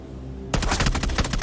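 Rapid automatic fire from a Groza rifle in PUBG erupts suddenly after a brief quiet lead-in, a loud, close burst of sharp, evenly spaced shots continuing to the end.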